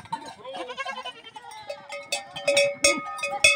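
Goats in a pen on a goat-breeding farm in northeast Brazil bleat repeatedly and loudly at close range, several animals calling over one another in quick, overlapping cries.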